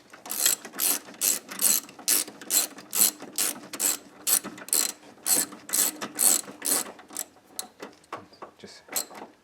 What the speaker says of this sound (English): Torque them down nice and tight.